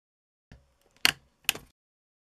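A pick pries at the plastic clips of a Seagate Expansion portable hard drive case, making a faint tick and then two sharp plastic clicks about half a second apart, close up in a quiet room.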